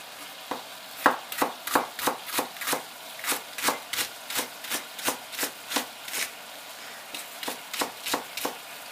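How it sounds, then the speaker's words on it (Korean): A knife rapidly minces onion finely on a cutting board for tuna tartare, producing steady rhythmic crisp taps close up, a long even run of chops with no talking. "양파는 네, 한 2, 3mm 정도로 다지겠습니다"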